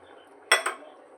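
Shrimp tipped into a pot of sambar and stirred with a spoon, giving a short metallic clatter and scrape, two quick clinks close by, over a quiet kitchen background.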